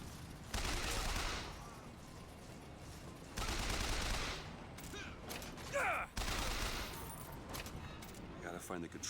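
Sustained bursts of gunfire in BioShock, heavy volleys repeating in three long stretches with brief gaps, loud and close, with a few sharper mechanical clicks between.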